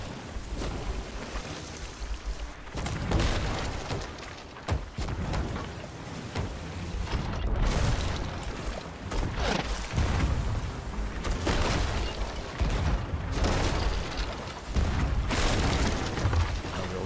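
Ship cannons boom repeatedly during sloop naval combat in Sea of Thieves, heavy irregular blasts over constant rushing ocean waves and creaking, loud and close.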